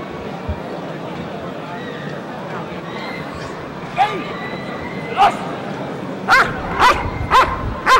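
A dog barks in short sharp yips, sparse at first then several in quick succession near the end, over steady outdoor background noise, at a KNPV police dog trial in 1997.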